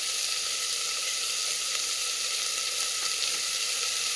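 Garlic cloves, sliced lengthwise, sizzle loudly in hot oil, a steady, dense frying hiss that runs unbroken throughout.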